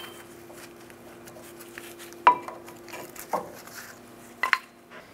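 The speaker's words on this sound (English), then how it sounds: "Take the brake pads off." Brake pads being pried out of a Chevrolet Silverado 2500 HD front caliper: a few sharp metallic clinks and scrapes, spaced a second or so apart, fairly quiet over a low steady hum.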